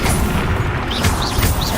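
A fiery explosion spell, Confringo, booms in Hogwarts Legacy, a loud dense rumbling blast with crackling debris and whooshing effects over about two seconds.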